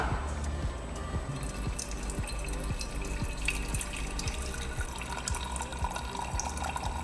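Water pours steadily from a jug into a cooking pot, a continuous splashing stream with irregular glugging pulses, close and fairly loud, with no voices.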